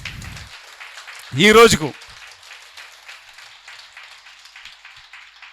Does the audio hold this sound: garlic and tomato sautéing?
no